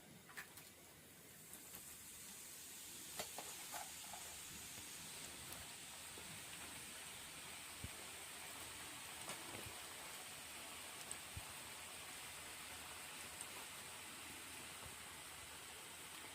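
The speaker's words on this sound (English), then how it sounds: "now we will deep fry it" Peanuts coated in chickpea flour deep frying in a small portion of oil, a steady, fairly quiet hiss and crackle with scattered pops, continuous and alone.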